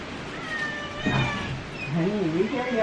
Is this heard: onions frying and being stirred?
no